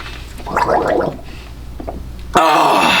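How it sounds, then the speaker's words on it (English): A man slurps a drink loudly and wetly, with gurgling, gasping noises in the middle of the clip, followed by a sharp louder burst at the end. "Do you mind seeing a guy slurp?"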